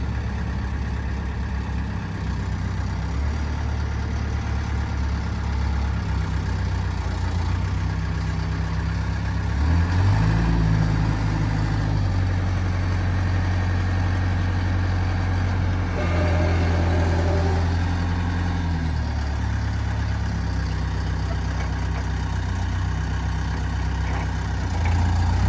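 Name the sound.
JCB 930 rough terrain forklift engine idling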